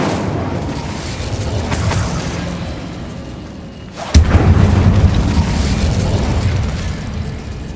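Incendio fire spell cast in Hogwarts Legacy: a steady whooshing rumble, then a sudden loud booming burst of flame that keeps roaring afterward.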